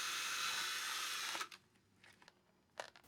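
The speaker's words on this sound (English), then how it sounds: "Then I drilled some small holes in the corners." Small power drill boring holes into the cowl of a Hangar 9 Hellcat model airplane, a high whirring spin that stops abruptly, followed by faint clicks and handling noises, quiet and close.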